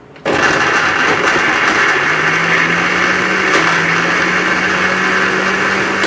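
Blender chopping bread pieces into breadcrumbs, a loud steady whir that starts abruptly and runs unbroken, with a slight pitch dip midway as the load shifts.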